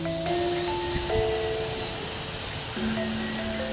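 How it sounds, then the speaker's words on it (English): Cicadas drone at a temple in Bali, a steady, loud, high-pitched buzzing that fills the background with a few sustained tonal lines and no pauses. "you can hear the sound of the cicadas in the background droning away"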